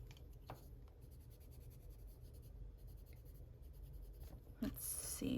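Coloring on artist quality paper, a continuous soft scratching of a pencil stroking across the sheet, close and quiet, with a couple of light taps and a brief sharper rustle near the end.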